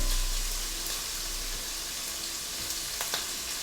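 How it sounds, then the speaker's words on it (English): Shrimp searing in hot oil make a steady, close sizzle, loudest at the start and easing a little, with a few sharper crackles near the end and no voices. "We're just gonna sear these shrimp off."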